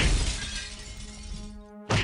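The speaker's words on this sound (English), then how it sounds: "Punch that mirror. Smashed." In the game Realms of the Haunting, a mirror is punched and shatters: a loud, close crash of breaking glass whose ringing shards decay over about a second and a half before a short, sharp final impact.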